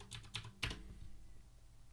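A few quick keystrokes on a computer keyboard, typing a passphrase at a command line; soft, close clicks in a short burst, then quiet.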